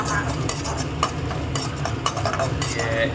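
Brinjal being dry-roasted and stirred in a pan until coloured, with continuous sizzling under steady scraping and clinking of a utensil against the metal, close and fairly loud.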